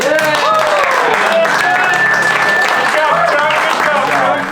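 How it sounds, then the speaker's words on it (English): Applause from a small group of people outdoors during a spring turkey hunt in Florida, loud continuous clapping with voices and cheering mixed in throughout. "How about a round of applause?"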